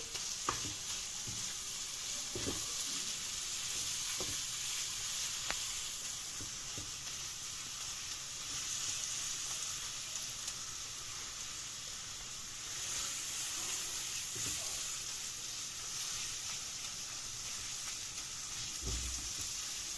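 Onions and radish fry in a pan over a gas burner at medium-high heat, giving a steady, close hiss and crackle that runs throughout, broken by occasional clicks and scrapes from stirring, with no talking.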